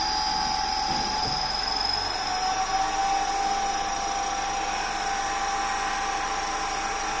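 A DC shunt motor spins above its rated speed, giving a steady high-pitched whine with sustained tones and a continuous hum, alone and unchanging throughout.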